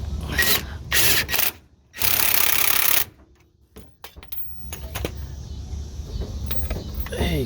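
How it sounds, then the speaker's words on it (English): An impact wrench rattles in short, loud bursts while tightening a 19 mm bolt on a lower transmission mount of a 1997 Honda Civic, followed by softer clicks and handling noise. "I'm just gonna use my impact."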